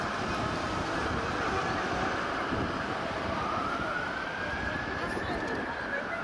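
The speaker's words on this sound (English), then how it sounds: "You guys don't hear the ambulance coming?" An emergency vehicle siren wails through city traffic, a loud continuous rising and falling tone over steady road rumble, with a voice talking underneath.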